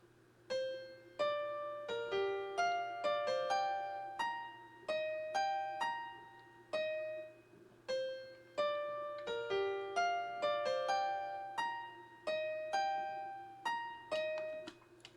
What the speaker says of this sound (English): I used the acoustic piano preset from Purity.